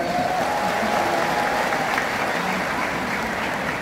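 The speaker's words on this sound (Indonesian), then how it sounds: "boleh tepuk tangan dengan mereka" Sustained, dense applause from a large crowd filling an indoor arena at a political party rally, steady and loud throughout without a break.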